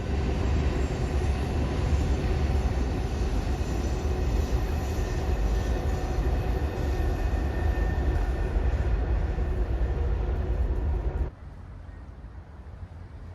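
Trains cross the Hell Gate Bridge and viaduct over the East River in New York, a loud, sustained rolling rumble and rail roar that cuts off abruptly near the end.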